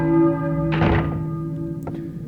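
Deep bell ringing in the Silent Hill video game, a resonant sustained tone struck with a heavy thunk, ringing on and slowly fading.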